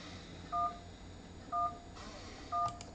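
Three short touch-tone keypad beeps from a cell phone in the Henry Stickman video game, evenly spaced about a second apart over a faint steady background hum, with no voices.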